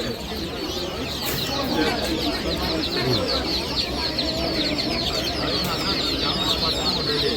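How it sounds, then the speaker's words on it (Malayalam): Ducklings and chicks at a market peep and chirp constantly in a dense, loud chorus, with a busy crowd murmuring behind them. "താറാവിൻ്റെ കുട്ടികള്"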